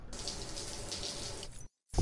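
Shower water rushes steadily in Death Stranding, a broad hissing spray close up that cuts off abruptly near the end, followed by a short thud.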